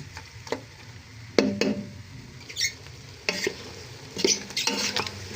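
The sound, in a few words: dinuguan pork sizzling in its own oil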